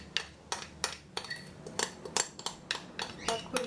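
A metal spoon scrapes cake batter for bem casado cakes from a cup or dish, giving a series of about a dozen close, crisp scrapes and clinks in an uneven rhythm with no talking.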